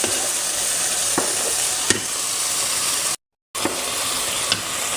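A chicken filling is stirred in a pan for a cheesy chicken mashed potato bake, with a steady sizzle throughout and a few sharp utensil scrapes, broken by a brief gap.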